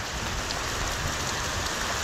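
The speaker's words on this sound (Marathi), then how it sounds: "तुम्हाला दाखवतो आहे कोकणामध्ये पाऊस किती लागतो आहे" Heavy monsoon rain pours down in the Konkan countryside over ripening rice fields, a dense, steady hiss of drops on surfaces filling every moment, close and unbroken with no voices.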